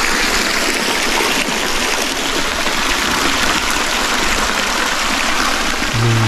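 Water pours steadily into a swimming pool at a hillside resort with a mountain view, a loud continuous rushing splash that holds unbroken and close throughout.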